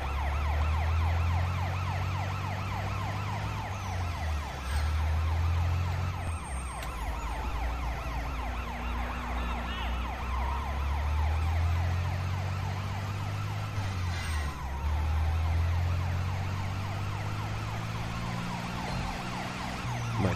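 Police sirens wail continuously during a chase in the Sleeping Dogs game, rising and falling in long repeated sweeps over a low car engine rumble, loud and sustained throughout.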